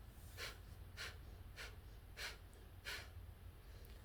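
Deep belly breathing in and out, five slow, even breath sounds evenly spaced, close and fairly soft against a quiet background.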